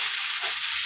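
Potatoes frying in a pan with cumin and dry and green chilies, a steady close sizzle and hiss without talk.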